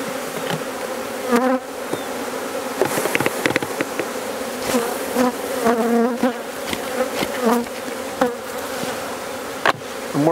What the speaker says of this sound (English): Get rid of as many bees as we can.